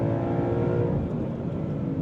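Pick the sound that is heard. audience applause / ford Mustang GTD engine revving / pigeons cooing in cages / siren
ford Mustang GTD engine revving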